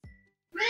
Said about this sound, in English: Look, we have a watch cat at the farm.